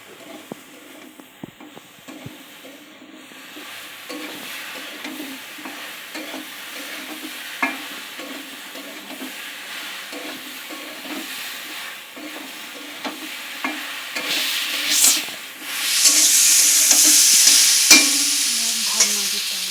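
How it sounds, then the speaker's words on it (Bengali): Food stirred with special spices in a hot pan, rhythmic scraping strokes over a steady sizzle, the hiss swelling louder toward the end. "তারপরে একটু স্পেশাল মশলা দিয়ে ভালো করে নাড়তে হবে, নেড়ে চেড়ে মিক্সড করে দিতে হবে"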